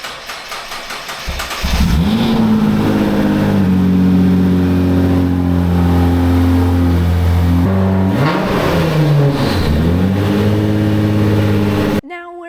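A twin-turbo 2JZ race car engine revs up loudly and close, holding a steady roaring drone with a dip and second climb before cutting off; a voice briefly comes through underneath.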